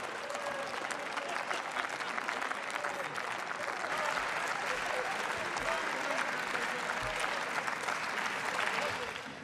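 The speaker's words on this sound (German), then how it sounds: "Steffen Robert, viel Applaus hier aus fast allen Fraktionen." Sustained applause in the German Bundestag during a budget debate fills the chamber, dense and steady clapping throughout with a faint murmur of voices.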